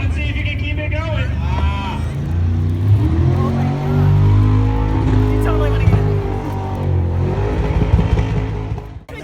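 At the Cleatus & Cars 2021 show, a car does burnout donuts, its engine droning and revving loudly and continuously with wavering pitch, and a voice speaks over it.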